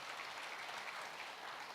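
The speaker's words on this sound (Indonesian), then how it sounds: "Beri tepuk tangan kemuliaan dulu buat Tuhan." Congregation clapping in praise to God during a church sermon, a steady wash of many hands heard faintly at a distance with no voices over it.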